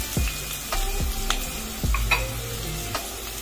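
Fennel, black pepper, cloves and fenugreek seeds roast in a pan with a close, steady sizzle, while a spatula scrapes and stirs in several distinct strokes.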